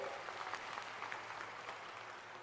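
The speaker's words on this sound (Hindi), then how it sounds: "जरा जोरदार तालियों से उनका स्वागत करो सब मिलके" Crowd applause at a political public rally welcoming a speaker, a continuous even roar of many hands heard from a distance, fairly quiet and unbroken throughout.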